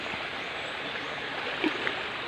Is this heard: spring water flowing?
yes